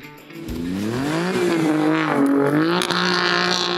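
An Alfa Romeo Stelvio Quadrifoglio SUV's engine revs and pulls, rising and falling in pitch over a few seconds with a brief tire squeal, loud and close.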